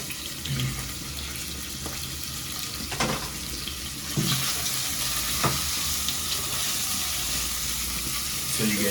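Onions frying in a pan on the stove, a steady broadband sizzle running throughout at moderate level with a few faint clinks and bumps, no talking.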